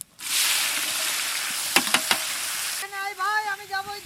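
Onions dropped into hot oil with whole cumin, bay leaf and dried chilli for chicken curry, giving a loud, steady sizzle with a few clattering clicks, then a voice talking over a fainter hiss.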